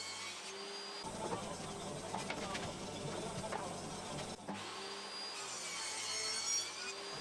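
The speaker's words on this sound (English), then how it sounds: "I cut that at the table saw in 2 passes." Table saw cutting a rebate into beech for a waney-edge slab coffee table frame, a steady whining, rasping cut that runs the whole length with slight surges, fairly close and without talk.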